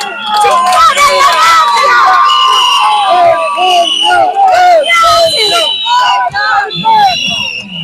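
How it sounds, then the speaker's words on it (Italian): Angry crowd on a protest march to the prefecture over a water shortage, many voices shouting and chanting loudly together, close and dense with rising cries and overlapping yells. "L'urlo di rabbia della folla è fortissimo e accompagna il corteo fino alla prefettura"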